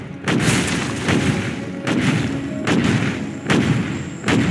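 Repeated bursts of gunfire and explosive booms from the real-time strategy game Command & Conquer Generals Zero Hour, arriving in loud regular volleys about once a second over continuous battle noise.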